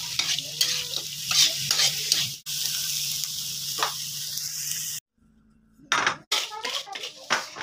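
Tempe is stir-fried with palm sugar in a pan, with a steady close sizzle broken by repeated scraping stirs of a spatula and a brief pause partway through.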